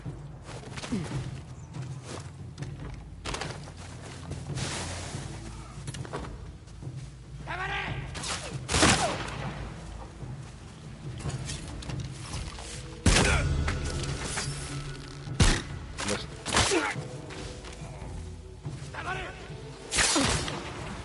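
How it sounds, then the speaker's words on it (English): Gunfire and combat noise from the PS5 game Ghost of Yotei, with scattered sharp shots, swooshes and crashing impacts spread across a busy, fairly quiet mix while a voice talks over much of it. "watching out for that guy shooting at us"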